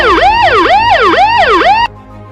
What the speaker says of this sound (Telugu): అలాగే సైరన్ వాయిస్ ద్వారా కూడా హెచ్చరికలు ఇవ్వవచ్చు.